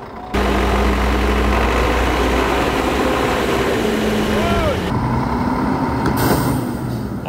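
Vehicle engine running close by at a recovery site where a ZIL 157 4x4 is being pulled out, a loud steady idling drone that stays constant throughout.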